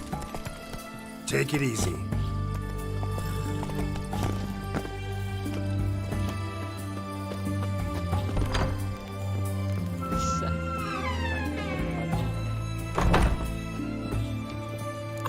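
In a video game, the horse Roach trots and gallops with hollow clip-clop hoofbeats and thunks. Background music plays throughout, and someone speaks briefly.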